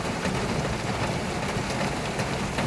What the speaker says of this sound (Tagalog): Ito, malakas ang ulan dito sa amin.